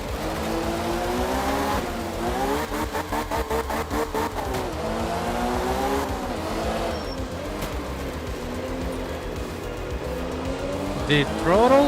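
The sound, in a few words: rally car engine at full throttle in video game Art of Rally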